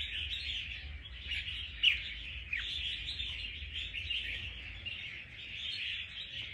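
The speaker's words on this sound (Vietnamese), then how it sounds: "Nói chung là chim này ra giọng cực tốt rồi anh em nhé." A trapped wild-caught red-whiskered bulbul (chào mào) sings a steady run of bright, high chirping phrases with a couple of sharper accents, faint against a low background hum, no talking.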